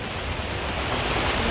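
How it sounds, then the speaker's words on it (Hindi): Heavy rain pours down in a steady, dense wash of noise, loud and close without a break, with no one talking over it. "बट अब इतनी तेज़ बारिश आ गई है ना।"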